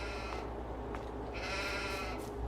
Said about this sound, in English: Here's a sheep. See the sheep?